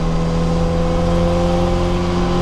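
An Opel Manta A engine fitted with twin Weber DCOE 40 carburetors roars at steady high revs, a loud, close, continuous drone with strong low harmonics and no speech.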